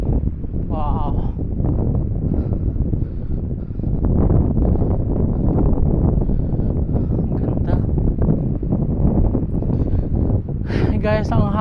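Steady wind gusts across a harbor beach in Kaohsiung, a constant broadband rush buffeting the microphone throughout, with voices talking over it.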